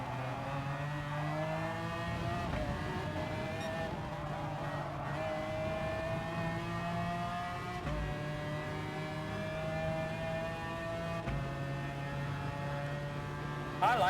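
A race car engine in the GT Sport racing game drones steadily with a whining, shifting pitch and brief dips at gear changes, loud and continuous with no break.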